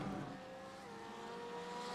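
A GT3 race car crashes at Bathurst in a racing video game, heard as faint tire squeal and engine noise with scraping. It stays quiet and distant, with no clear impact standing out.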